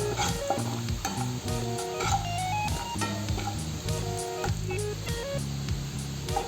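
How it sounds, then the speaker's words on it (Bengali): Chili powder, salt and spices frying in a pan for a Bengali fish paturi with beans, giving a steady close sizzle with stirring scrapes throughout. "মশলাগুলো ভাজা হয়ে গেছে"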